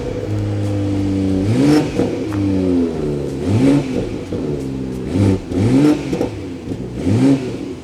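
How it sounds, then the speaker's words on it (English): A 2021 BMW M440i with a 3-liter straight-six petrol engine and particulate filter revs repeatedly, rising and falling in several close, loud bursts with no talking. "Now let's check out how this new BMW M440i sounds"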